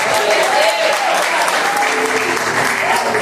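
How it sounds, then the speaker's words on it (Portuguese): A church congregation applauds during a Portuguese-language sermon, a dense and loud wash of clapping with continuous voices mixed in, steady throughout without pause. "Só quem acredita aplauda Jesus e dá glória."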